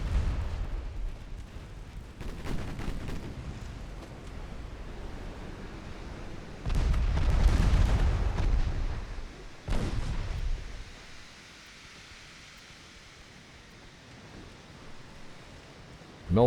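Battleship guns fire in Ultimate Admiral Dreadnoughts as several deep booming salvos spaced seconds apart, with one heavy rolling blast standing out, before the noise settles into a low, quiet background rumble.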